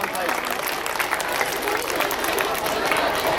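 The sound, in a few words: audience applauding at an Indian school program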